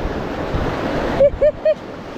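Fast, high water of Alberta's Crowsnest River rushes in a steady broadband roar that eases midway, followed by three short, bright whistling chirps in quick succession.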